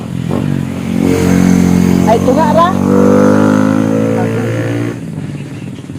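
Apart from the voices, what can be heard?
motorcycle engine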